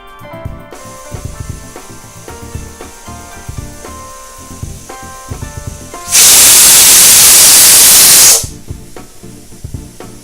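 A pressure cooker cooking tapioca and beef lets out a loud, sudden rush of hissing steam from its whistle for about two seconds, cutting over quieter background music before it stops abruptly.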